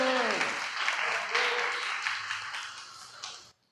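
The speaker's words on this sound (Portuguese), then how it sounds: "aplauda o Senhor de novo" Congregation applauding the Lord during a church sermon, a dense burst of clapping that swells and then fades out over a few seconds, with some voices mixed in.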